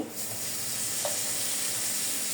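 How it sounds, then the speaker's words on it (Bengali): Onion and vegetables such as cabbage sizzling as they are added to a hot frying pan for noodles, a loud steady hiss of frying that holds throughout, close by, with no speech. "পেঁয়াজটা একটু নাড়াচাড়া দিয়ে আমি এক এক করে সবজিগুলি সব ঢেলে দিব। দিয়ে দিলাম বাঁধাকপি"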